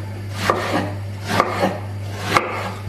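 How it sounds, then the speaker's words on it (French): Peeled eggplant being cut into small dice on a board, three crisp knife chops spaced about a second apart over a steady low hum, close and clear with no voices. "Nous allons donc maintenant couper les aubergines"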